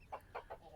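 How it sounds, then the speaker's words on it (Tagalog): Backyard chickens kept in a small home chickenry give three short clucks in quick succession, fairly faint against a quiet outdoor background. "So, ito ang mga inaalagaan namin mga manok dito sa aming"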